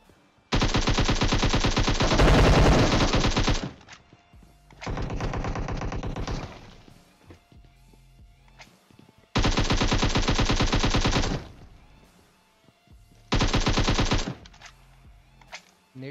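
Four long bursts of rapid automatic gunfire from PUBG Mobile, loud and close, each several seconds long and separated by brief gaps of quiet.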